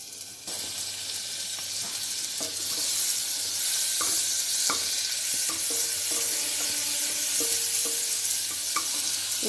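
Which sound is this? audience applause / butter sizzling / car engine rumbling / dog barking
butter sizzling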